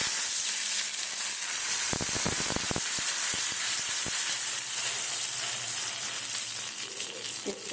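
A bay leaf drops into hot oil, setting off a bright steady sizzle and hiss, with a brief flurry of crackles and spoon taps early on.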